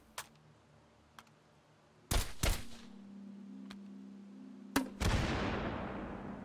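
Video game gunfire comes as a few faint clicks and then two sharp double shots a couple of seconds apart, each leaving a humming, decaying ring afterward.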